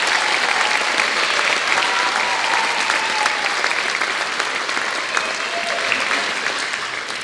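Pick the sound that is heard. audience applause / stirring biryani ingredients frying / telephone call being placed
audience applause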